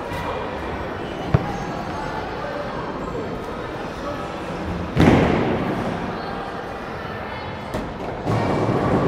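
A football kicked down a bowling alley lane, with a sharp thud near the start, a loud crash of impact about midway and another hit near the end, all over a steady roar of background noise and voices.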